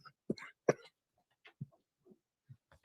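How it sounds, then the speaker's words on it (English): A person coughs in a few sharp, close bursts that break up a fit of laughter, followed by softer, scattered throat sounds and breaths spread over a few seconds. "I laughed so hard I made myself cough."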